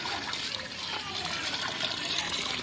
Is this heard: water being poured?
yes